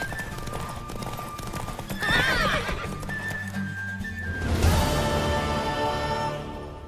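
A horse whinnies loudly with a rising, wavering call, then hooves clop and shuffle close by amid ambient game sounds in The Witcher 3.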